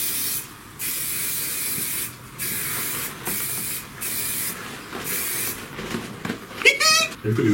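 A spray can hisses in repeated bursts of roughly half a second to a second with short gaps, close and steady, followed by some rustling and handling noises at the end.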